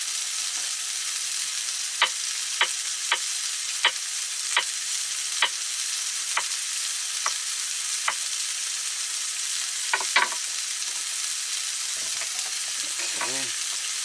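Vegetables frying and cooking down in a pan on a stove inside a van, a steady broadband sizzle throughout, punctuated by sharp utensil taps against the pan and a few scraping stirs near the end, no talking.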